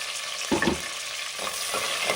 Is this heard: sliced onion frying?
yes